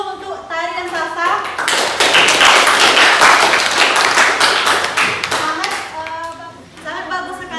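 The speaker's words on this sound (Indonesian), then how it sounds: "tepuk tangan dulu untuk Tari dan Salsa" Classroom applause for two young dancers, Tari and Salsa, with a group of children clapping rapidly for several seconds while voices chatter before and after the burst of clapping.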